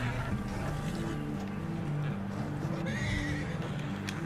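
A horse whinnies during gameplay in Red Dead Redemption 2, set in a snowy valley. The call is loud and close, with steady clip-clop hoofbeats and a thick background of game sound running throughout.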